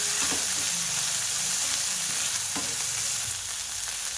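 Small chicken pieces fry steadily in hot oil, a continuous close sizzle with light scraping clicks as they are gently stirred around the pan.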